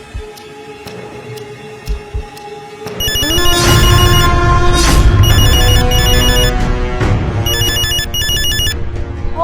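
A mobile phone ringtone starts up loudly after a few seconds of quieter restaurant background sounds, then plays a repeating electronic melody with pulsing tones that continues to the end.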